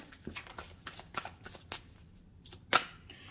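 Tarot cards being shuffled by hand before a draw, a run of quick, crisp riffling flicks and slaps at close range, ending in one sharper snap, quiet overall.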